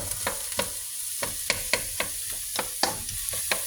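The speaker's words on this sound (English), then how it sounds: "let's go and see our onions now. Okay, they're sweating, which is good." Onions sweat in a frying pan with a soft, steady sizzle, while a spoon scrapes and stirs in sharp, regular strokes close by.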